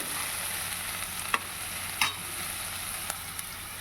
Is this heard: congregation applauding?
no